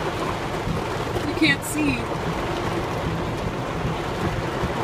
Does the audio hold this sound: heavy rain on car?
yes